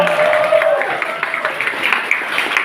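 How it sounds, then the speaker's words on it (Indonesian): Applause from an audience at the opening of a community event in Banten, a steady dense patter of many hands clapping at moderate distance, lasting the whole stretch. "kita buka acara hari ini dengan tepuk tangan yang meriah"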